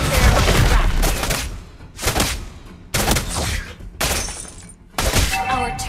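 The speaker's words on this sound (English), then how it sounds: "Our turret has been destroyed." In the Mobile Legends mobile game, a turret is destroyed: a run of heavy booming, shattering blasts arrives in four or five sharp bursts, each decaying quickly before the next, loud and close.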